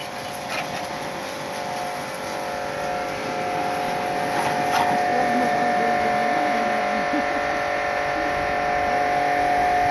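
A bike and car wash pressure machine running, a steady motor drone with hissing water spray that swells louder partway through and holds.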